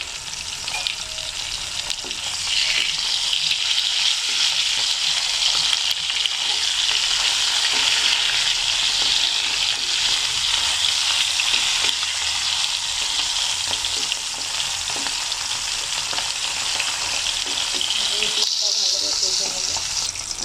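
Fish frying in hot oil, a loud, steady hiss of sizzling that runs without a break, with a brief dip near the end.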